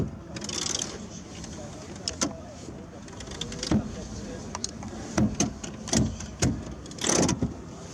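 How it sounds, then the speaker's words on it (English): Repeated mechanical ratcheting clicks and rattles of a 2020 car's roller seat adjustment mechanism, coming in irregular bursts, with a low background hum. "listen to the roller adjustment"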